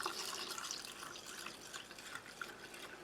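Cold water is poured from a tap into large drink granules from a Polish Army ration pack, making a faint, continuous splashing trickle with a few brighter drips, and no voices.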